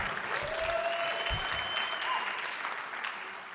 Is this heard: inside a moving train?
no